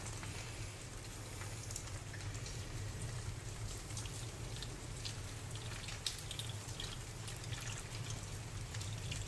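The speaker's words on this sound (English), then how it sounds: "we're going to try and pour off the solution" Solution is poured off a container while gold is recovered from old electronics: a continuous, even trickle and patter of liquid, fairly close and unbroken throughout, with no talking.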